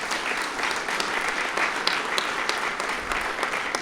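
An audience at an awards ceremony applauds steadily, a dense wash of clapping that holds at an even level throughout.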